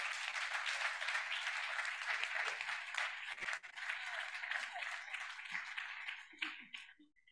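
Applause from the audience at the DigiHealthDay 2023 closing ceremony honoring Dr. Justus Wolf, steady dense clapping that thins out and fades toward the end.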